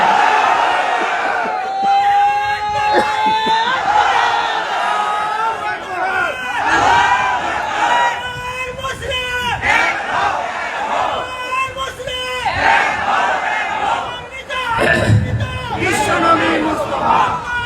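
Large religious gathering crowd at a bazaar in Dhaka roaring a takbir call in unison, loud sustained mass shouting with babble and cheering throughout.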